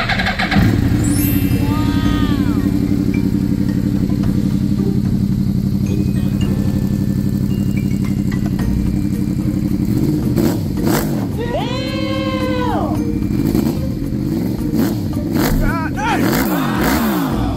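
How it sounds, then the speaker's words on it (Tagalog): A 2013 Yamaha R1 sport motorcycle with a racing tail tidy idles loudly and steadily up close, then is revved in several rising and falling bursts near the end. "So 2013 Yamaha R1. Sound check natin syempre."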